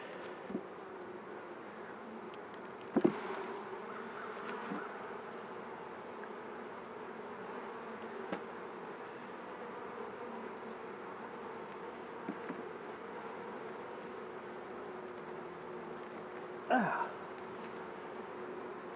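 Honey bees drone in a steady, low buzzing hum from an opened beehive with small hive beetles present, continuous and even throughout, with a couple of brief sharp knocks from handling the frames.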